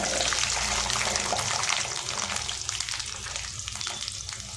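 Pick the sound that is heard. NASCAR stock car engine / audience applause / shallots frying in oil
shallots frying in oil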